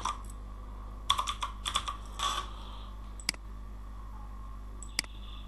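Fingers type a channel name on a computer keyboard in two quick bursts of close, crisp key clicks, followed by a couple of isolated single clicks over a quiet hum.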